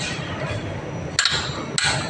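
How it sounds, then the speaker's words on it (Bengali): A torque wrench reaching its set torque gives two sharp metallic clicks about half a second apart, close and clear over a steady background rumble. "দেখুন টর্ক রেঞ্চে কটকট শব্দ করছে, তার মানে টাইটটি ঠিকমতো হয়ে গেছে।"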